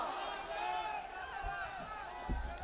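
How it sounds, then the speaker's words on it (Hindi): A crowd at a Congress political rally in Taranagar, Rajasthan roars and cheers together, a loud, dense wall of voices with a few thumps, sustained throughout and heard from within the gathering. "जोरदार तालियों से आप ताली बजा के अशोक गहलोत जिंदाबाद"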